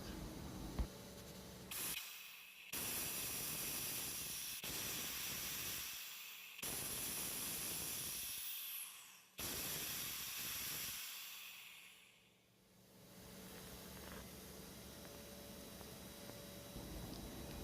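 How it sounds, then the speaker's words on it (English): Compressed supply air hisses into an electro-pneumatic control valve in the field, a loud, steady broadband rush that cuts out and resumes several times before settling into a continuous hiss. "Now I can restore the supply air to confirm my diagnosis."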